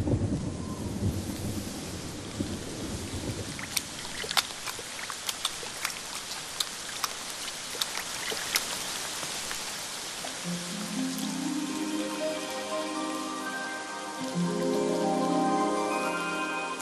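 Rain pours steadily over South African desert succulents, with sharp crackles of nearby thunder and distant rumbles during a rare storm, the downpour dense and continuous throughout.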